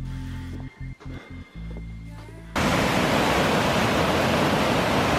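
Devil's Cascade on the Little Indian Sioux River in the Boundary Waters, Minnesota, in October: a broad roaring rush of falling water cuts in abruptly and stays loud and steady after a short stretch of low rumbling.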